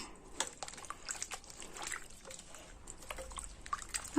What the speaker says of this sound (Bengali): পরিষ্কার জল নিয়ে নিয়েছি আম কিন্তু আরও একবার খুব ভালোভাবে ধুয়ে নেব